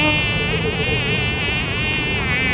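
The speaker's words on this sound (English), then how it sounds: "I'm gonna fight a bee." A bee buzzes close and steady in the kitchen, a loud continuous drone with a slight wavering pulse that fills the whole moment.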